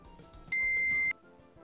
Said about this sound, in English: See, it beeps when there's a connection.